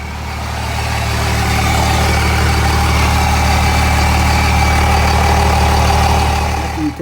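A 2nd Gen Cummins diesel runs steadily after fuel priming, a loud, close, continuous idle rumble with a constant mechanical drone throughout and no talking.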